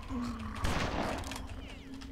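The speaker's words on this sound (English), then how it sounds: "Gotta love how he fires his gun right before he dies" Enemy gunfire in the BloodRayne video game, a short loud burst of shots with a rumbling crack, set against a steady tonal game background hum; a voice talks over part of it.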